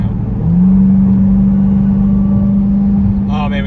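A 2021 Dodge Durango Hellcat rumbles loudly on the road while its engine whine rises at first, then holds a steady pitch; a voice comes in briefly at the end.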